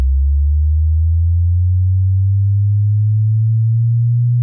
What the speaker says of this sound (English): This is an oscillator. It is a very normal element in electronic music.